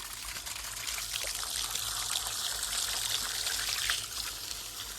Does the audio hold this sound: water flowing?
yes